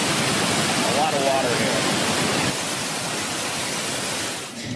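The Iguazu Falls waterfall roars as a dense, loud, continuous rush of water that stays steady throughout, easing slightly toward the end.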